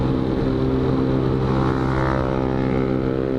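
A motorcycle with a loud aftermarket exhaust rumbles and revs nearby, its deep throaty drone continuous and strong.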